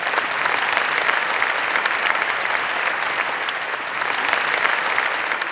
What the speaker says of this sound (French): je vous demande d'applaudir Denis Père